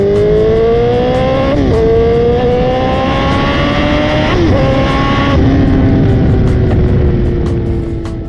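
Suzuki GSX-R1000 K3 sport bike with K&N air filter, engine revved loudly and close with rising and falling pitch, punctuated by a few sharp pops around the throttle changes.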